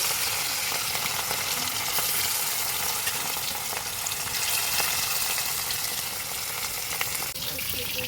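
Pieces of rui fish frying in oil, a dense, continuous hiss and crackle held at an even, loud level throughout, close by, with no talking.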